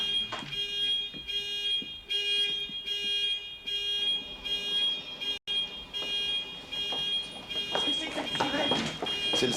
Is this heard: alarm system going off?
yes